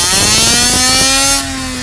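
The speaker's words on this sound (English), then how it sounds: "We're testing a 29cc ported Zenoa engine with a 990 carburetor." A ported 29cc Zenoa two-stroke engine fitted with a 990 carburetor screams at high revs on an inertia dyno, its loud, steady whine holding a rising pitch before cutting off sharply near the end.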